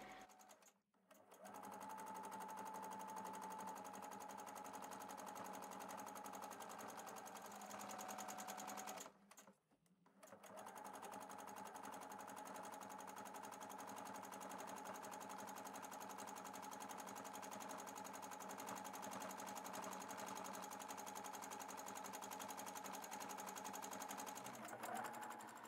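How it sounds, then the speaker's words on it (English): A sewing machine stitching thread-sketch design lines, running as a steady, even, fast mechanical whir that stops briefly twice and then resumes, heard alone at low volume. "Some of the main design lines are stitched over several times to make them stand out more."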